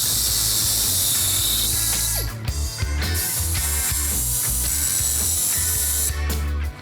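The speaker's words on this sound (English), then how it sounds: "I'm gonna cut the U-bolts in half" A U-bolt is cut in half with a power tool, giving a loud, steady grinding whine with brief dips and catches. It runs continuously and no one talks.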